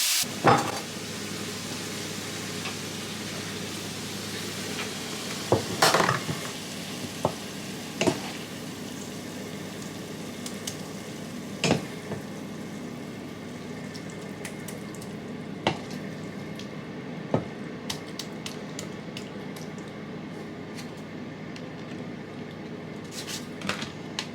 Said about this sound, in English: I'm going to add the tomato puree, cut the pepper off, add the tomatoes, add the herbs